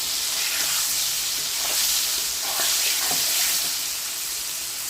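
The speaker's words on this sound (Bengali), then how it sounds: "তো এটা বেশ ভাজা হয়ে গেছে, গোল্ডেন ফ্রাই একদম।" Flour-coated pieces of food fry in hot oil, a steady close sizzle and hiss with small popping bursts and occasional faint stirring clatter, continuous throughout with no talk.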